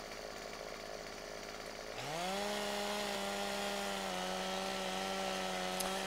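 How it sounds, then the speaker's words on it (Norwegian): Chainsaw from Farming Simulator 2017 cutting wood: a steady motor drone revs up sharply about two seconds in, then holds a loud, even whining buzz at high pitch with no voices. "Da er det fremme motorsaget."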